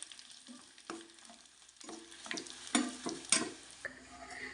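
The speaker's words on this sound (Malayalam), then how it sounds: "അതിലേക്ക് നമുക്ക് കുറച്ച് വറ്റൽമുളക് ചേർത്ത് കൊടുക്കാം. എല്ലാം കൂടെ നമുക്ക് നന്നായിട്ടൊന്ന് ഇളക്കി മൂപ്പിച്ചെടുക്കാം" Curry leaves and dried red chillies roasting in hot oil while being stirred, a steady close sizzle broken by several louder scraping stirs, for a Sadhya-style mango pickle tempering.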